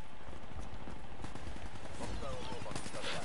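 Rapid gunfire from a Black Ops 3 multiplayer match on the map Verge, dense repeated shots throughout at moderate loudness, with a player's voice talking over the action.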